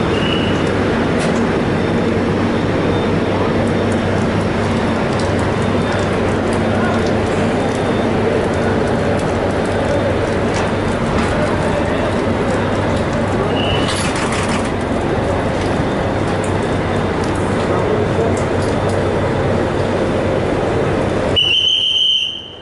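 Steady rumble and clatter of a New Delhi to Lucknow AC superfast special train rolling along the rails, heard from inside a 3AC economy coach, continuous and loud throughout, with a brief higher squeal near the end.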